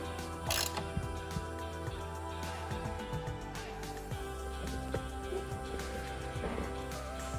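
A wrench works a half-inch nut on a 9/16 bolt on a Craftsman 10-inch radial arm saw, giving a series of close, quiet ratcheting clicks and metallic ticks at an uneven rhythm.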